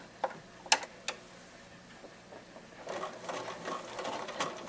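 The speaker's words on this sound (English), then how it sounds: "So we'll go back over to the sewing machine and do that" A sewing machine top stitches the edge of a pillowcase. A few sharp ticks and clicks come first, then a steady, close mechanical whirr of stitching.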